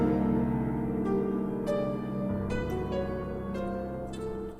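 Piano part playing in an FL Studio mix with the stereo shaper effect removed, a sustained chordal passage with a steady bass layer and soft rhythmic percussive ticks, loud and continuous throughout.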